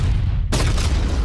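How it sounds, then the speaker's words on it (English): A big explosion goes off in a video game scene. One loud, sudden boom cuts through a dense, roaring background and leaves a wide rumbling wash behind it. "Did I mention the big explosion?"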